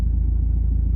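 A Nissan GU Patrol idles, heard from inside the cab, as a deep, steady, muffled low rumble that stays even and fairly loud throughout.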